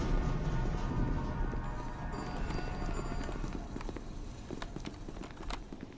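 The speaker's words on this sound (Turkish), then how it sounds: "Ayak sesi duydum ama." Footsteps in the video game SCP: Secret Laboratory: a run of quick, fairly faint hard steps over a low rumbling game background, with the steps growing more distinct toward the end and no talking.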